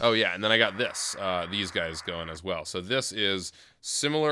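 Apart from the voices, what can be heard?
No everyday noise stands out behind the speech.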